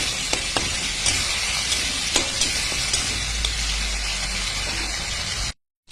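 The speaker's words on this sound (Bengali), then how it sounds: "ভালো করে নাড়াচাড়া করে নিয়ে" Ginger paste with salt and turmeric being stirred in a hot pan, a steady close sizzle with scattered scrapes and clicks of the spoon, ending abruptly in silence.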